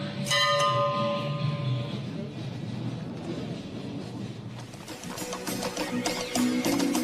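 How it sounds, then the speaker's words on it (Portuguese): Small hand bell rung by a cheerful bar owner in Formentera, a bright metallic ringing that rises over lively bar chatter and ambient noise late in the clip. "O proprietário animado toca um sininho para agradecer aos clientes por suas gorjetas"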